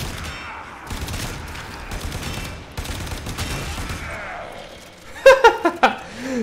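Gunfire from a weapon in the video game Warframe, a short burst of several loud, close shots near the end over steady game sounds and background effects.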